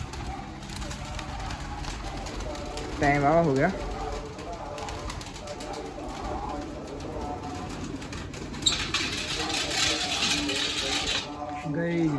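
Pigeons coo in low, repeated calls after being shooed away, with someone talking over them and a brief rustle or flutter partway through.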